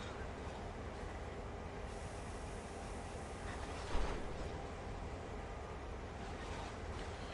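A CSX heavy-haul freight train in Train Sim World beginning to roll downhill on its own: a steady, low rumbling drone of the moving train with a brief louder clunk midway, no voices.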